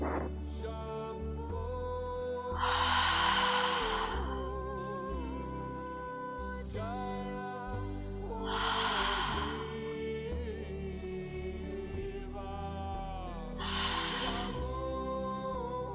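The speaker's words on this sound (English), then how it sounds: "take a few deep belly breaths in and slower exhales through your mouth to cool off" During a yoga cool-down, three slow, breathy mouth exhales rise at even intervals over a quiet, sustained musical background, soft and close, each lasting about a second or two.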